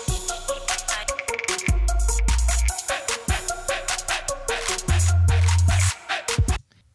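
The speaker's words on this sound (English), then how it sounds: "Here's a quick little song using the MVP loops that I put together." A short electronic song built from MVP loops in Studio One, with punchy rhythmic beats and deep bass swells that play loud and steady before cutting off near the end.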